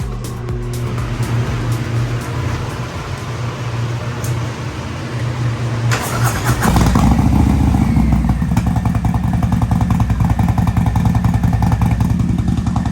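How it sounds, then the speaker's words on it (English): A Harley-Davidson Softail 114 Stage 2 engine runs steadily on a dyno, then its rumble deepens and grows louder as it revs up and holds at a higher pitch. "It sounds so good at idle."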